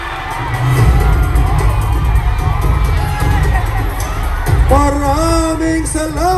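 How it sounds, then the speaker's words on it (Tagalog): A large crowd at a Leni-Kiko campaign rally in Naga City cheers and shouts continuously, loud and dense, with whoops and yells rising over the roar. "Parinig ng sigawan, Bicolania!"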